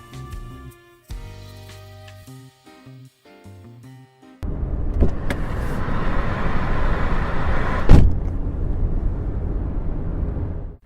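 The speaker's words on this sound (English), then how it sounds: "Driving down the road in my new 2021 Mercury Predator." A 2021 Mercury Predator hybrid car drives along as a radio ad effect: a steady broadband road and engine rush starts abruptly after a few quiet musical notes and holds, with one louder thump midway.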